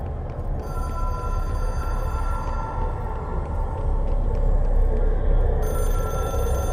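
A hotline telephone rings with a bright, continuous electronic bell tone over a constant low rumble, repeating steadily and loud in the foreground.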